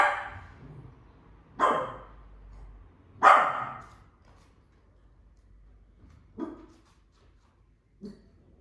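A pet dog named Scarlett barks indoors in a quiet room, with a few sharp, separated barks spaced seconds apart, the later ones softer and shorter.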